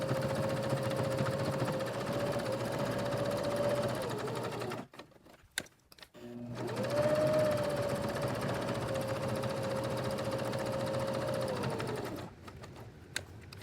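Sewing machine stitching fabric, running in two steady bursts of several seconds each, separated by a short pause with small clicks, close and alone with no talk.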